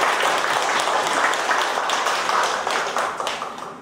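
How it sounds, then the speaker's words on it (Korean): A church congregation applauds during a Sunday worship service: dense, steady clapping that fills the room and fades slightly toward the end. "주님 앞에 영광의 박수 올려드립니다."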